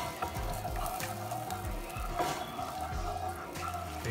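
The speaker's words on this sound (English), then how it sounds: "As you can see, it has come to a nice simmer." Salsa simmers in a pan, a soft bubbling sizzle with small pops and gurgles, close but fairly quiet, steady for a few seconds with no talking.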